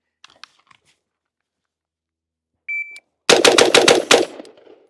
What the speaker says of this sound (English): So this is going to be cold. First shots of the day.